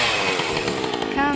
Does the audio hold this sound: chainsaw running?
yes